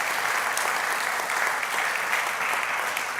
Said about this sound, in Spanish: Eso es un aplauso para Dios